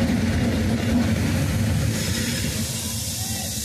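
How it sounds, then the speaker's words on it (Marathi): A WAP 7 electric railway locomotive from Pune gives off a loud, steady rumbling drone with broad hiss that eases slightly toward the end; no speech. "हे पुण्याचं WAP 7 रेल्वे इंजिन."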